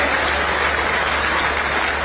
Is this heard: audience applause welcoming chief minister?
yes